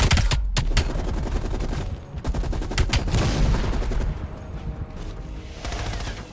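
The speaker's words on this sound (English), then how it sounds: "so full machine gun here" Sustained automatic machine gun fire and dense battle gunfire from the video game Call of Duty: Black Ops Cold War, loud and continuous with rapid bursts throughout.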